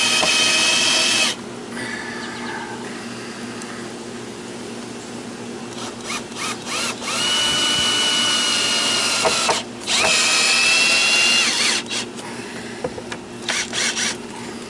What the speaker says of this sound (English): Put a couple of screws in there to hold it